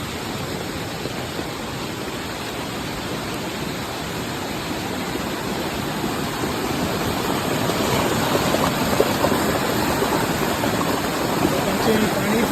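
Muddy floodwater rushes steadily through a village in Konkan after heavy rain, a dense continuous roar that swells slightly toward the end.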